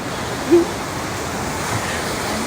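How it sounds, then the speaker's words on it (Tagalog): Ocean surf rolls in at Nasugbu Beach in Batangas, a steady broad wash of waves with a soft windy hiss and no clear break in the noise. "Nandito na kami sa Nosogo Beach sa Batangas."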